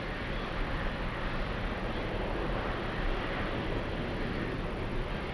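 The jet engines of an Emirates Boeing 777 at Frankfurt airport, moving into position to take off, make a continuous broad roar that stays even and distant-sounding throughout.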